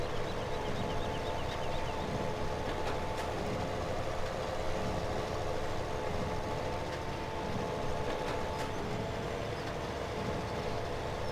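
Farming Simulator 17 tractor engine running steadily on a Lossberg wheat field, a continuous low mechanical drone with a faint tonal whine, holding even loudness throughout with no talking.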